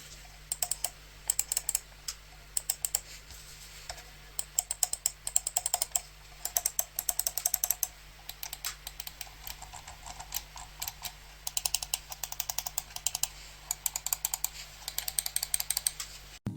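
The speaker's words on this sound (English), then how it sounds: "here's a small sound test so you can hear the buttons." Computer mouse buttons clicked repeatedly in a close, quiet sound test, producing crisp light ticks in irregular bursts and runs across the whole stretch, with no talking.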